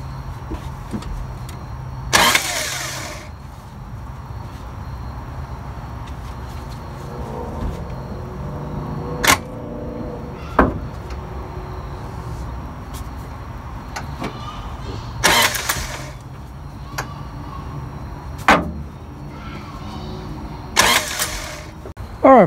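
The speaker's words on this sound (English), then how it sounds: "I'm going to start bumping the ignition and try to get it lined up here" A 1985 Toyota pickup with a 22R engine is cranked in short bursts while the ignition is bumped, three or four brief starter whirrs separated by pauses and clicks, close by, with no voices.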